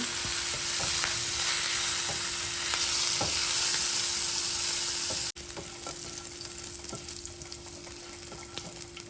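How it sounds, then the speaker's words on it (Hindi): Ginger and chili sizzle loudly in hot oil as aromatics for dal dhokli. The frying hiss is close and continuous, drops out for an instant partway through, then carries on slightly softer. "देन हम डालेंगे aromatics, that is ginger and chilli"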